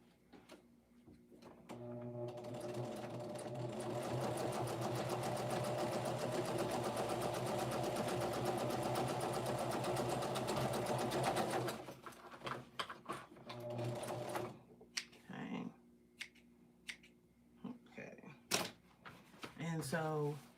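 A sewing machine stitches a quilt end onto a piece, running steadily and fairly loud for about ten seconds, then stopping into a few short bursts and clicks.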